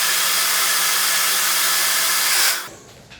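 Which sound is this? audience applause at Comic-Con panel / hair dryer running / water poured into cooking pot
hair dryer running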